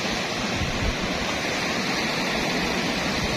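Strong sea waves surge onto the shore at a rocky beach resort in Bolinao, a loud, steady, dense roar of water with no pauses and no voices.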